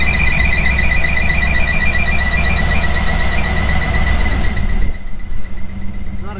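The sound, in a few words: car engine squeaking, shrieking noise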